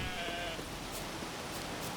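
Sheep bleat in The Witcher 3, a short wavering bleat near the start over a faint outdoor ambient hiss, followed by soft scattered sounds.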